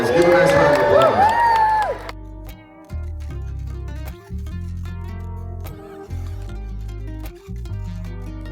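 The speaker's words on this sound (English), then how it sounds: "Give a nice round of applause" A crowd at a stage game show lets out a short burst of cheering and whoops, then it quickly gives way to music.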